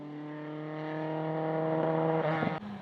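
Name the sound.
Ford Escort rally car engine running rough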